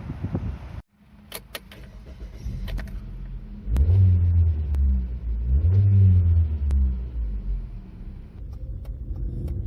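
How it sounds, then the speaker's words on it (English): A 1998 Mazda 626 2.0 automatic with a blowing exhaust idles, then revs twice with deep rumbling surges, running on with a rough, throaty drone and a few light clicks. "So this car is awaiting a new exhaust section. There is a little bit of a blow from it"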